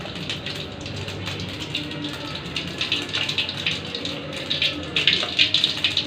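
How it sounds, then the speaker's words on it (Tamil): Mustard seeds crackle and sizzle in hot oil in a pan, a steady frying hiss with scattered pops that grow busier toward the end, close and moderately loud. "எண்ணெய் நல்லா காஞ்சதுமே கடுகு போட்டுக்கலாம்."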